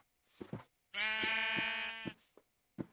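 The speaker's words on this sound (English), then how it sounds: "Come here, sheep." A sheep in a video game lets out one loud, drawn-out bleat of about a second, close by, with short scattered game noises before and after it.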